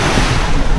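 Ocean surf at Eagle Beach, Aruba, a loud, dense wash of breaking waves mixed with wind buffeting the microphone, continuous and close, with no talking.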